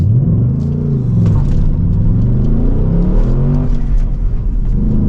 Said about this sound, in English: let's do a launch control again, which is why I put the RPM to a lower range